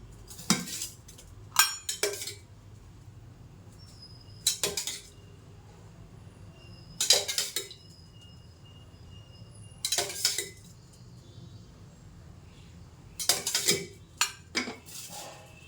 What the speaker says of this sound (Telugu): ఆ ఉప్మా అంతా చక్కగా కలుపుతాడు, బాగా వేస్తాడు మా అబ్బాయి.